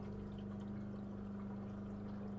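Steady low rushing and humming of fresh water filling a 2017 Roadtrek Simplicity camper van's tank, continuous and even throughout, with a constant pump-like drone underneath.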